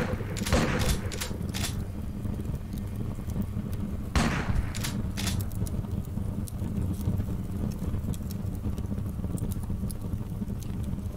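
Gunfire in the video game Underrail during a Protectorate questline fight with shotguns and assault rifles: repeated sharp shots in quick bursts over a steady, dense game background.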